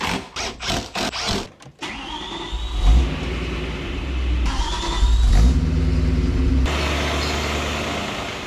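A BMW E92 M3's S65 V8, freshly revived after being blown up and fitted with a new twin-disc clutch, revs sharply several times up close before settling into a loud, steady idle and running drone with further throttle rises.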